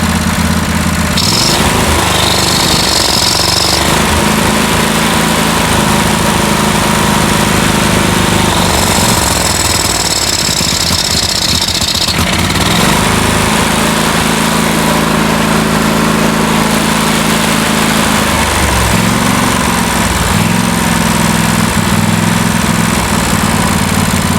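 A loud, rough John Deere LT166 lawn tractor engine roaring at full throttle on choke, sputtering and surging unevenly throughout, close by with no talking.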